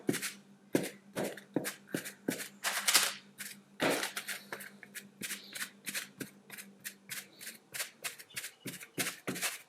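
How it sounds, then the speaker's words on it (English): A fork repeatedly pierces puff pastry laid on parchment paper, making a quick series of sharp, crisp taps and pricks at an uneven rhythm, close and clear, with no talking. "you grab your fork and we're going to just start piercing"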